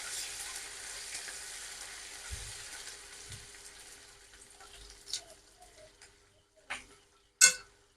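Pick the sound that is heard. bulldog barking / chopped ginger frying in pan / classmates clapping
chopped ginger frying in pan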